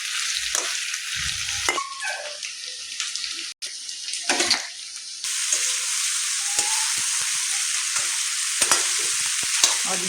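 Potatoes tipped into a pan of fried spices sizzle and crackle steadily, with intermittent stirring scrapes and clatter up close; the frying grows fuller and louder partway through and continues without talking.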